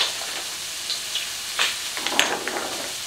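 A mixed vegetable curry with celery, masala and chili powder cooking down in a pan, giving a steady close sizzle and frying hiss with a few light stirring scrapes, and no voices.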